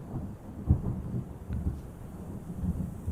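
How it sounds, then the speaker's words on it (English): Rain falls softly in the game Terra Nil with low, muffled rumbles of thunder rolling intermittently, faint and distant throughout. "There's rains."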